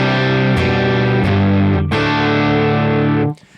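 An electric guitar plays through a small Fender-style clean practice amp pushed into overdrive, giving a loud, dirty, sustained distorted tone with a few re-struck chords before it cuts off abruptly.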